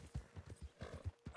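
Horse hooves in Red Dead Redemption 2 clip-clop in a steady, even rhythm of low thuds, moderately loud and up close, with no talking.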